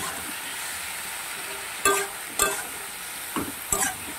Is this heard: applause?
no